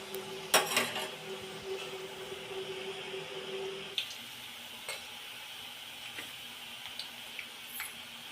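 Murukku dough pressed into hot oil in a Chettinad kitchen, a faint steady sizzle of frying with a few clinks of utensils and a louder scrape early on.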